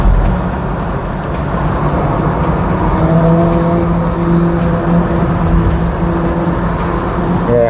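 A Honda vehicle passes on a road near Delhi, its engine and tyre noise swelling loudly and close, with a rising and falling engine tone in the middle of a continuous traffic roar.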